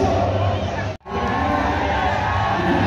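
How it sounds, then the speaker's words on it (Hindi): A large crowd shouts and cheers at the Wagah border ceremony between India and Pakistan. The dense, loud roar of many voices is broken only by a brief drop near the start. "उधर भी कितनी चिल्ला रही पब्लिक"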